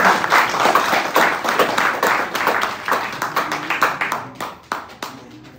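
Audience at a university regional competition event in the Comoros applauds, dense clapping at first that thins into scattered individual claps before fading over about five seconds.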